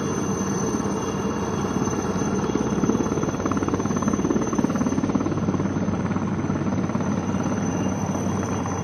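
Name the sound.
helicopter flying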